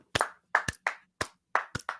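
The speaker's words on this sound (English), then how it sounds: "clap it up for Barbara Walters, man." Several sharp, separate hand claps ring out close by at an uneven pace, roughly seven claps over two seconds with clean silence between them, as one person claps along during a Chicago Bulls versus Detroit Pistons live stream.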